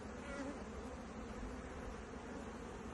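Honey bees swarm and buzz around an opened beehive while frames are rearranged and a super is added, a dense continuous drone of many insects close by without any voices.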